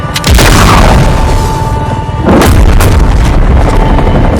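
Loud explosion with a heavy boom and burst as an enemy helicopter is shot down in Call of Duty Modern Warfare, two big blasts with rumbling debris over continuous battle noise.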